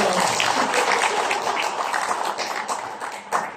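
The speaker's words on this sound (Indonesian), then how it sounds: "Boleh tepuk tangan dulu ya, boleh." A short burst of audience applause in an Indonesian education seminar room, dense clapping heard close and fairly loud, tapering slightly over a few seconds.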